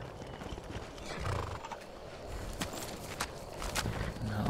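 Horse hooves clip-clop at a steady gait while riding in the video game Skyrim, with a whinny among faint, busy game ambience.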